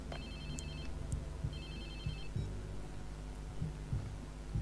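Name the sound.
phone ringing in Watch Dogs 2 video game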